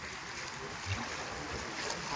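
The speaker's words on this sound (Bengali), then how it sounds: "আর দেখুন কি অপূর্ব ঢেউ চলছে।" Rough water during a weather depression sloshes and churns in a continuous, windy wash, with a hint of a small boat moving through the waves; no voices.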